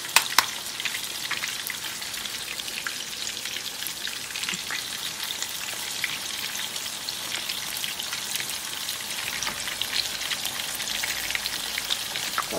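Meat patties sizzle and crackle steadily in a frying pan, a dense close hiss with scattered pops lasting throughout, no voices.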